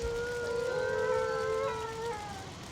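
Wolves howl in the Valheim video game, several long overlapping tones rising and gliding together, steady and fairly loud throughout with no talk.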